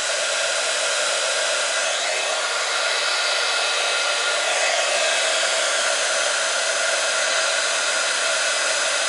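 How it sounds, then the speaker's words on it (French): A heat gun blows steadily on puffy embossing paint, a loud, constant hot-air roar that runs without a break for about nine seconds, with no voices. "Faites bien attention de ne pas vous brûler en utilisant le pistolet chauffant."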